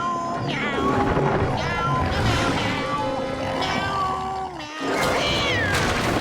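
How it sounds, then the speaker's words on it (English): Gary the snail from SpongeBob sings a song in a run of repeated meows, a sing-song cartoon cat voice carried over music and other voices throughout. "only Gary is present on the fence, but he's singing the exact same song"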